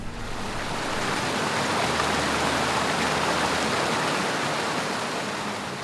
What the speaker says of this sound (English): A little creek flows in between them.